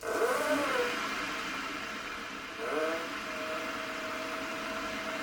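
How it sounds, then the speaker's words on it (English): A small console motor powers a Schaublin 70 lathe with a steady, fairly quiet whirring hum that swells twice as it picks up speed and then holds an even running tone. "this little console motor was sort of a quick and dirty setup"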